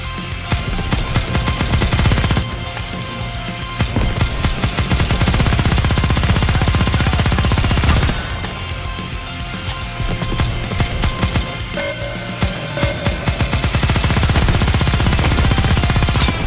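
Sustained rapid gunfire from the video game Goddess of Victory: Nikke, loud machine-gun bursts rattling almost nonstop, with only a few short breaks between the volleys.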